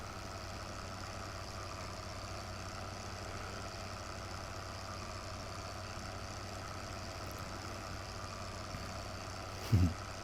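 A tractor engine idles in the video game Farming Simulator 15, a steady low drone that holds evenly throughout, with a brief knock near the end.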